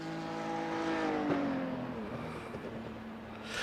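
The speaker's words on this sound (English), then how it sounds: "that classic kind of flat 6 sound that a Porsche has, typically" A Porsche race car with a flat-six engine in the iRacing simulator drones steadily from an outside view, its harmonic engine tone sliding lower as revs ease off, fairly loud and continuous.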